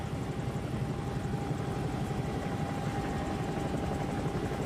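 A Bell 222 helicopter hovering in a flight simulator game: a continuous loud rotor chop over a turbine hum with a fixed whine, steady and unbroken, with no talking.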